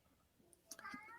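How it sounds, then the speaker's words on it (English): A cat meows faintly in the background of a podcast recording, one short rising call near the end of a quiet stretch, low and somewhat distant. "I hear a cat in the background"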